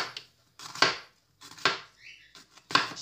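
A knife chops peppers on a cutting board in a home kitchen, with three or four distinct, separated crisp cuts close by.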